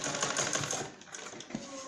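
A sewing machine stitches piping onto a blouse with a quiet, rapid mechanical clatter that runs continuously with slight variations in pace.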